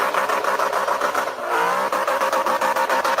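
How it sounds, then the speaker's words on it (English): A four-cylinder Ford Mustang engine drones steadily and loudly with a rasping, revving note, close by, with a brief dip midway before the tone climbs again; no talking. "You guys hear the engine note? Yeah. That's a four-cylinder Mustang."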